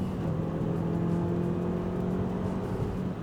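A Ford Fiesta drives past on the road outside, its engine a steady low drone that swells slightly and then eases, fairly near, with no talking.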